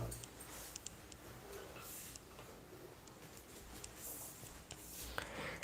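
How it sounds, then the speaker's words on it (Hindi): Marker or chalk scratching on a board, faint intermittent strokes and taps in uneven bursts with no talk over them. "यहां पे लिखता हूं"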